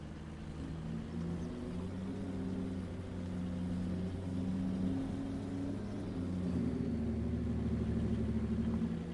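Steady low engine drone of a truck driving in Farming Simulator 22, a continuous rumble with shifting tonal hum that rises slightly near the end, no voices.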